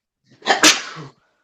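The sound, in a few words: a person sneezing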